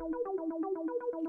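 Short plucked synth notes from a Syntronik arpeggiator set to randomized mode hop between pitches in a fast, evenly spaced stream, dry and upfront, about a dozen notes in quick succession.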